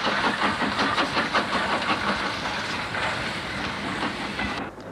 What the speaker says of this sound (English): Number 24 Calborn, now preserved at Haven Street, heads a train away from Pier Head